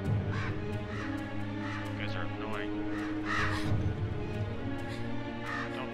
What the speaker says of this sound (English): Get out of here, fucking crows.